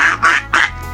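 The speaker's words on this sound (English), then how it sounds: "Yes, it's a duck!" A duck quacks three times in quick succession, loud and close, each call short and nasal with brief gaps between.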